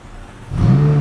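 A McLaren 570S pulls away, its engine swelling from near quiet into a loud, steady rising drone over the final half second, with no talking.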